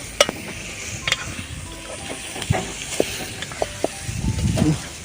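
Chicken frying in a pan at an outdoor New Year cookout, a soft sizzle broken by scattered clinks and scrapes of stirring, with a louder rustling stir near the end.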